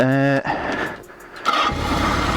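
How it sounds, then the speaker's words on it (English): A Kawasaki Z650 project motorcycle engine cranks with a whirring starter, then catches and rumbles to life close by, settling into a rough idle. "Then you're going to get onto the bike, turn on the ignition"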